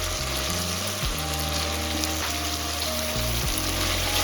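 Mutton fat mixture frying in a pan for ghugni, a steady close sizzle that runs the whole time without pause, with no talking over it.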